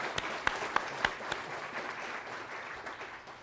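An audience applauds to welcome a speaker at an evening talk at the Dole Institute of Politics, a warm burst of many hands clapping with a few sharp nearby claps, steady then slowly thinning.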